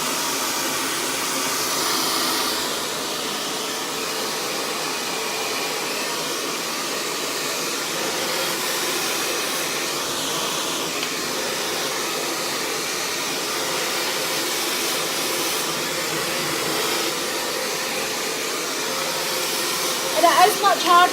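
A hair dryer runs continuously while blow-drying hair, a loud, steady whooshing roar close by that barely changes across the whole stretch, ending with a few brief clunks.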